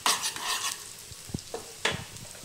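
Chopped garlic and a little chili hit hot oil in a pan for a dhaba-style tadka dal, giving a broadband sizzle with scattered stirring scrapes and clinks, close and moderately loud, with no voices.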